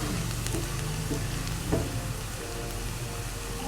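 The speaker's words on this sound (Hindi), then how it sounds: "ये हल्के हल्के प्याज भुन गए" Onions fry on a tawa for kaleji masala, a steady, moderately loud sizzle with a soft crackle and one brief scrape near the middle, without any talking.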